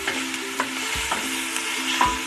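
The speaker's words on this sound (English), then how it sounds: "So I'm just gonna stir that up." Vegetables fry in sesame oil for Trinidadian-style fried rice, a moderate sizzle broken by several clacking, scraping stirs of a utensil in the pan, with no talking.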